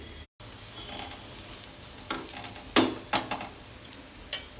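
Pearl millet dish roasting in a hot pan until well browned, a soft continuous sizzle broken by several sharp scraping and turning sounds close by, with no talking.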